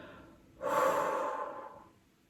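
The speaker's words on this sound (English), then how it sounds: "as you breathe out, you're imagining all of the toxins and carbon dioxide and everything breathing out" A single deep breath during a stress-relief breathing exercise, a soft airy exhale lasting over a second, close and clear with no talk.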